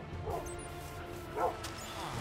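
Minecraft dogs let out two short, quiet barks about a second apart, heard under a person talking.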